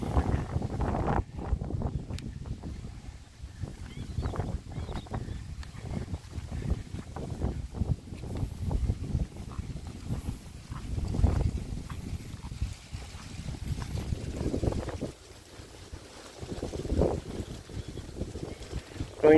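Strong, cold late-afternoon wind at a tilapia pond blasts against the microphone in heavy, uneven gusts, a low rumbling roar that swells and fades repeatedly throughout.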